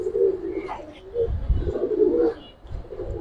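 Giribaz pigeons coo close by in soft, repeated low throaty bursts, several calls overlapping across a few seconds in a quiet setting.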